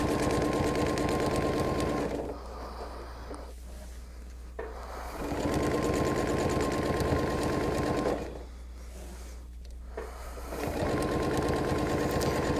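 Sewing machine stitching circles on a quilt runs in steady, fast bursts close up, with two brief pauses where the motor stops before sewing resumes at the same even hum.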